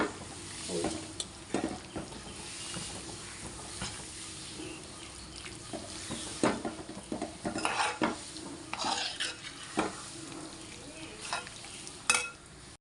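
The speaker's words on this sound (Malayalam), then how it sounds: "പച്ച വെളിച്ചെണ്ണ ഒഴിച്ച് നമുക്കിങ്ങനെ ഇളക്കി" Avial with crushed shallots, curry leaves and raw coconut oil being stirred in a bronze urli, with faint sizzling and soft scraping and clinking strokes at an uneven pace, quiet and close.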